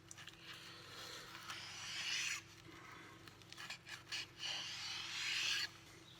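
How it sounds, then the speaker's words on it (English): A knife cuts through a breaded fillet with quiet rasping, scraping strokes: a longer drawn-out pass, then several short crunchy bursts and a final drag, all faint and close with no talk. "we'll slice the breaded fillet, comme ça"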